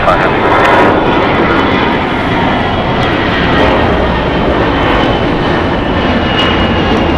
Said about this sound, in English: this is Air Canada. Flight 790 departing before. It's going to Toronto, Airbus A321.